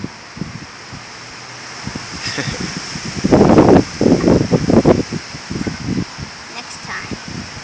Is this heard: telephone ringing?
no